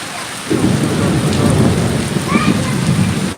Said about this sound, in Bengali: আপনারা দেখছেন যে এখন বৃষ্টি পড়ছে